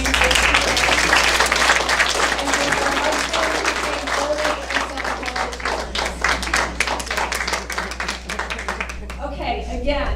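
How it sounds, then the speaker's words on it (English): Loud, dense applause from a meeting audience fills the room for a long stretch, with a steady low hum underneath and the clapping thinning slightly toward the end as a few individual claps stand out. "Let's have a round of applause for Barbara Osborne"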